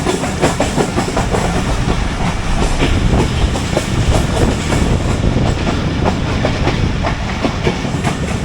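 The 46dn Pakistan Express runs along the rails between Rawalpindi and Chaklala, heard from on board as a steady, loud rumble with rapid rhythmic clickety-clack over the joints and faint hiss, no talking.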